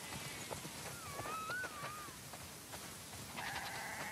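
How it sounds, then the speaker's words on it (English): Sheep on a farm in The Last of Us Part II bleat faintly in a quiet outdoor setting: a wavering cry near the middle and another short bleat toward the end, over soft ambient noise and light hoof-like taps. "Wow, that's a lot of sheep."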